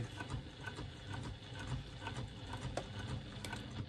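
A sewing machine with a size 16 needle stitching through several layers of a bag flap, a faint steady rapid chatter of the needle with soft rhythmic ticks.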